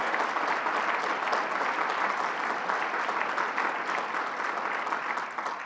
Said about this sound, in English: Let's give him a big Buffalo round of applause.